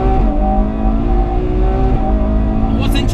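A front-engine V12 Ferrari 812 Superfast accelerates hard on the Fiorano track, its loud, high-revving engine note climbing through the gears with a brief shift dip, with someone talking over it.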